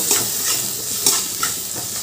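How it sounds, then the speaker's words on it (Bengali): Turmeric, cumin and other ground spices are stirred and fried in oil for a spicy prawn dish, a steady sizzle with rhythmic spatula scrapes and taps close by. "এবার সব মশলাগুলো ভালো করে কষিয়ে নেব।"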